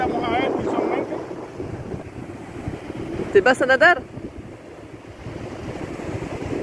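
Strong wind buffets the microphone on Carnon beach while waves roll in and break along the shore, creating a continuous roaring rumble; a person speaks briefly, and a short high-pitched cry cuts through midway.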